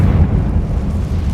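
Confringo blasting spell exploding in the video game Hogwarts Legacy: a short, deep, rumbling boom that stays loud for its whole brief length, with no voices.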